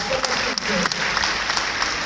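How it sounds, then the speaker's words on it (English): Audience clapping at a community briefing and award gathering, a brief burst of dense applause with a few louder individual claps and faint voices underneath. "But let's clap for them"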